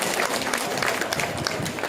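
Guests applaud Batam mayor Pak Rudi at a hospital inauguration, a dense, sustained round of crowd clapping heard close and lively throughout.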